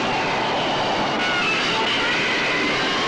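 Looped train sound effect from the 1979 television show Supertrain: a steady, loud rolling rumble of rail travel with a faint rhythmic clatter of wheels on track, continuous throughout with no talk.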